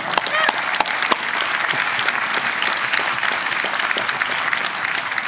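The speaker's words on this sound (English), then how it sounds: "That deserves some applause." Commencement crowd at a university undergraduate ceremony clapping loudly and continuously, a thick wash of many hands with sharp individual claps standing out near the microphone.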